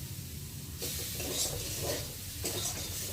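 Soybean chunks fry in a pan with a soft, steady sizzle and hiss that rises after a quiet start, with occasional stirring and no voices.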